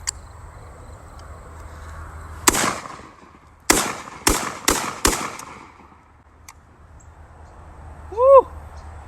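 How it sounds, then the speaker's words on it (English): Lynx 12 semi-automatic shotgun firing birdshot outdoors: one loud shot, then four more in quick succession, sharp and close, followed by a faint whistle-like call near the end. "we're just shooting around, just trying to shoot around"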